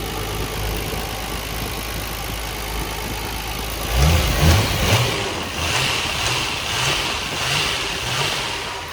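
A 1999 Nissan Skyline R34 GTR idles steadily for about four seconds, then gets a few quick blips of revving followed by a rough, lumpy idle with pulsing throttle, heard close by without any talk.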